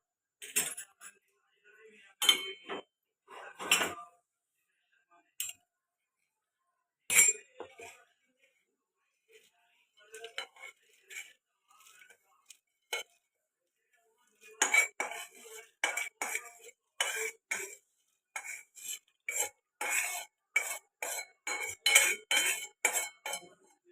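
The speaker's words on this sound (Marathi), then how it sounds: "आता हे शेंगदाणे टाकूया" Raw peanuts are tipped into a metal pan while Solapur peanut chutney is being made. Scattered clinks and clatters come first, then a dense, rattling spill of small hard pieces striking the pan, close and fairly quiet.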